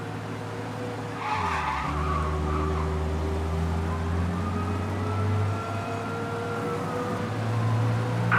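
A police chase in the video game Mafia Definitive Edition: a steady car engine roars throughout, with tires skidding and a faint wailing siren in the background. No one speaks.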